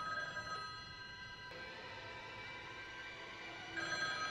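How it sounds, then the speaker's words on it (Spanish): A telephone rings inside a house, a steady electronic ring with sustained tonal pulses running through the whole stretch at moderate level, slightly louder near the end, with no talk. "escucha que dentro de la casa alguien llama por teléfono"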